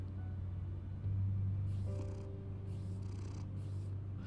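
Cat purring in Telltale's Batman game, a low continuous rumbling purr that swells briefly and carries under some soft scratchy rustles and faint higher tones.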